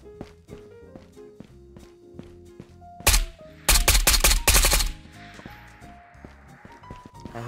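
Gunfire in Escape from Tarkov, Ground Zero map: a single shot, then a rapid automatic burst of about a dozen rounds, loud and close, amid steady footsteps and soft musical tones.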